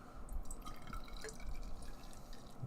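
War Hammer imperial hazy IPA from 4 Hands Brewing Company poured into a drinking glass, a soft close liquid stream with faint drips and glassy clinks, quiet and brief.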